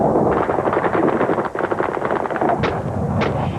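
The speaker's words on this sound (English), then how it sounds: "gun battles erupted tonight in the Croatian capital of Zagreb" Gunfire from fighting in Zagreb, Croatia, a dense, continuous crackle of shots and bursts with a couple of sharper cracks standing out near the end, loud and unbroken throughout.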